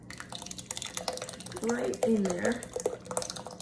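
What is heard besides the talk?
pouring heated cream, sour cream, butter and cream cheese mixture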